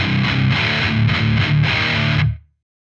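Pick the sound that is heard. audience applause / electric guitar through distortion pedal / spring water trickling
electric guitar through distortion pedal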